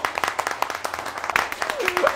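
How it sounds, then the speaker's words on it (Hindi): Students in a college classroom clap in short, quick bursts of claps, close by, mixed with chatter and voices throughout. "सब तालियां बजाए"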